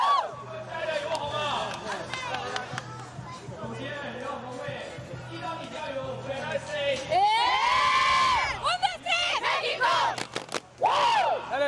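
Women's flag football team from a World Games match, Mexico versus Italy, cheering in a group, with excited shouts and whoops rising loudly after steady chatter, backed by crowd noise.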